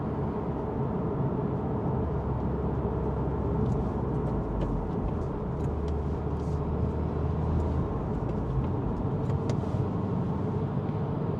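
Subaru WRX tS with manual transmission and symmetrical all-wheel drive cornering in third gear, a steady low engine drone and road roar heard from inside the cabin, continuous and even with faint higher ticks and rattles.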